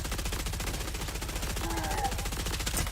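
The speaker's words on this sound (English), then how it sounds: "Out of ammo? Fine, I'll switch my assault rifle." Assault rifle fire in a shooter video game rattles out as one continuous, rapid and evenly spaced stream of shots, loud and steady for the whole few seconds.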